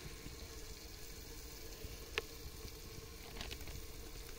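Soft, steady sizzling of red chili frying in hot oil, quiet and close, with a single sharp click midway.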